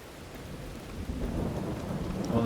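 Low rolling thunder rumbles beneath steady rain in a wooded spot during miserable stormy weather, building slightly louder toward the end with no voices.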